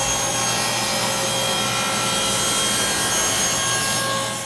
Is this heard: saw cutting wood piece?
yes